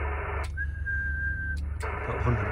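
A single steady whistled tone, held for about a second, comes through a Yaesu FTDX10 radio feeding a transverter, sitting over a constant low hum and hiss, with brief clicks at the start and end.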